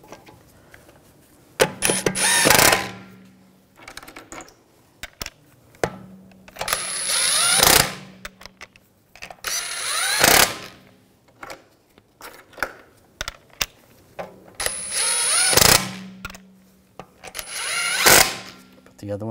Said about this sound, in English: Get the lug stud started.